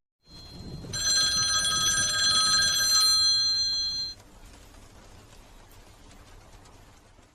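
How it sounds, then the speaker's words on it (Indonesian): An indoor telephone rings in a room, a bright electronic trill that sounds loudly for about three seconds and then stops, leaving a faint quiet room tone. "suara telepon masuk pun terdengar di dalam kamar"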